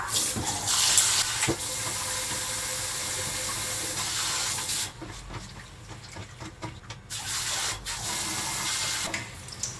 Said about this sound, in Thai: ถ้าเป็นกระชอนนี้ก็ แบ่งๆล้างเอานะ เราก็จะล้างเอาแบบแป้งแล้วก็เอาไอ้ที่มันมันเคลือบๆอันนี้นะคะ